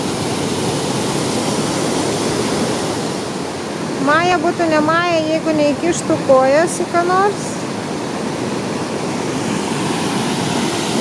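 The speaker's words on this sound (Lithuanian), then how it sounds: "Na va, koks krioklys gan didelis ir gražus." A large muddy waterfall at Sioux Falls, running high after a day of heavy rain and thunderstorms, gives a steady broad roar throughout while a voice talks briefly over it.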